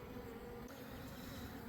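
Honey bees drone in a dense, steady buzz at close range over a frame of brood lifted from the hive, with no talk.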